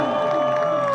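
A concert crowd at a show at Warehouse Live Midtown in Houston roars with cheering and applause, loud and dense for one sustained second, with tonal stage sound ringing underneath.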